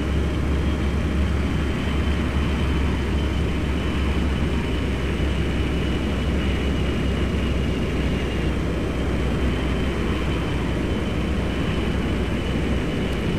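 Boeing 737-800 engines roaring in reverse thrust after landing in a flight simulator, a loud, steady broadband rumble with no pause, no voices.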